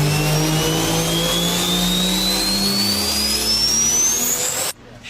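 Turbocharger on a 2019-or-newer 3.0 Duramax 1500 diesel fitted with a thick-walled aluminum CFT air intake tube: a loud, steady whistle climbs in pitch over the engine drone as revs build, then cuts off abruptly near the end.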